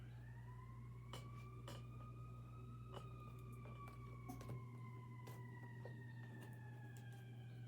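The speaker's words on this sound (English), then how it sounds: "Let's hear that siren out there." A wailing siren rises and falls in the distance, steady and faint, with occasional clicks and thumps nearby.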